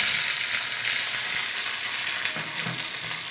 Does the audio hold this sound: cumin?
yes